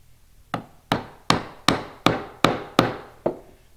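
Chisel chopping a mortise by hand in wood, eight evenly spaced mallet blows, sharp and close, each with a short ringing decay.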